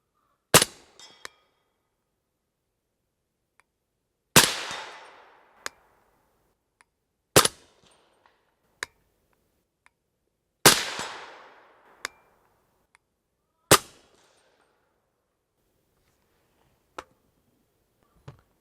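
Several suppressed 300 Blackout rifle shots fired outdoors, each a sharp loud crack with a short decaying tail, spaced a few seconds apart with faint clicks between.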